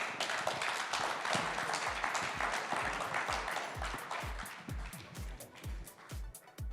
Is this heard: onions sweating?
no